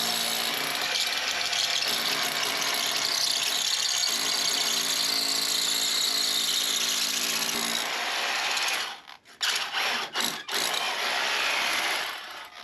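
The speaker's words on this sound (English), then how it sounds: "Just get the drill in a little bit and then we can bring it down and drill straight up." A power drill grinds steadily through a brick wall, loud and close, then stutters to a halt with a few short bursts near the end.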